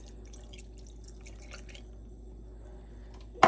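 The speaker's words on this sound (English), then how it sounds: "now I'm going to add the actual milk" Milk is poured into a Dutch oven holding green beans and cream of mushroom soup, giving a soft, steady liquid trickle with faint drips, close by and quiet, with no talking.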